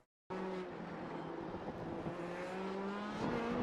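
A Dallara P217 LMP2 race car in iRacing, lapping Spa-Francorchamps, holds a loud, steady engine drone with a rising pitch under acceleration, heard alone and close.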